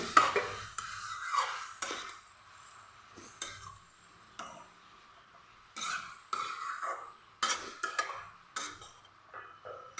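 A spoon stirs Assamese palak fish curry in a pan over low flame, repeated scraping clanks and knocks in irregular bursts separated by quiet gaps, with a faint sizzle underneath and no talk.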